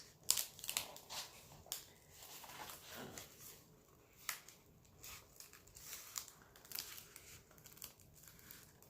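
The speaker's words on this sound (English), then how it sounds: "So let's go ahead and fold this." A thick handmade paper pad being folded for a junk journal, giving quiet crinkling, crushing and rustling with a few sharper crackles, close and soft, with no voices.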